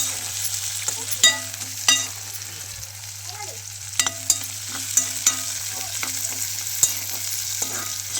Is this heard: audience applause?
no